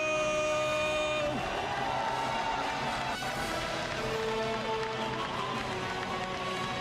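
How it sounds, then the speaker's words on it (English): A packed BlizzCon arena crowd of fans at the StarCraft II WCS Global Finals roars and cheers loudly and continuously over the venue sound system, forming a dense, steady wash of noise with no clear breaks. "The sound system and the thunder of the crowd, you can hear there are a lot of fans for these players here today."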